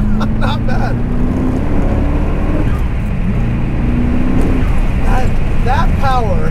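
A 1988 Callaway Twin Turbo C4 Corvette engine pulls hard through the gears, a loud, steady drone from inside the car with rising pitch sweeps, while people talk over it.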